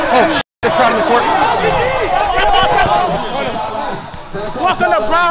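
A crowd packs an indoor court in Broward County, Miami, during a heated 5v5 basketball game, with loud, continuous chatter and babble from many voices and basketballs bouncing now and then underneath.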